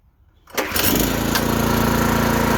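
A small mini tractor engine starts on half choke: half a second of quiet, a quick cranking catch, then the motor settles into a loud, steady buzzing idle.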